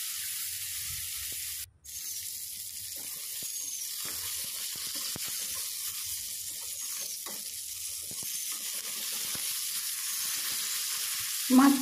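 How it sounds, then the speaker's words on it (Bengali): Katla fish fry in hot mustard oil in a pan, giving a steady close sizzle that runs the whole time with a brief break near the start and a small clatter at the end. "তেল গরম হওয়ার পর মাছ একে একে দিয়ে আমি ভেজে নিচ্ছি।"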